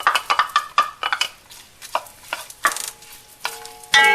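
Onions hitting butter and olive oil in a hot soup pot, with stirring and scraping clatter, a soft background sizzle and sharp utensil knocks against the pot.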